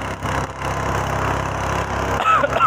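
A strong boat outboard motor runs steadily at close range with a continuous low engine drone, and a brief sharp chirp or squeal rises near the end.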